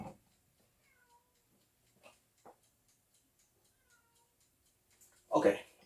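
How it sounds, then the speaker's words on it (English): A house cat outdoors meows once near the end, fairly loud and close after a mostly quiet stretch, with only a couple of faint small noises before it. "I heard a cat"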